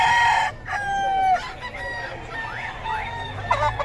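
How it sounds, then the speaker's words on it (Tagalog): Several roosters at a chicken market crow in overlapping calls, one loud and close at the start, others fainter and farther off, amid a low murmur of crowd noise. "Mura mga manok ni Boss Rod ngayon"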